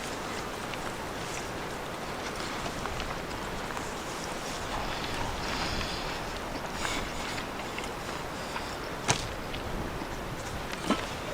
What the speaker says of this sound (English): this wind was supposed to die down a little bit, but I feel like it's just picking up